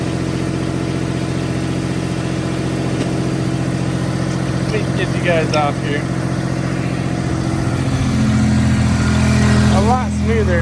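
A 1995 Toyota 4Runner engine idles steadily with a low, even hum and a noticeable exhaust leak, running close and loud while someone talks over it.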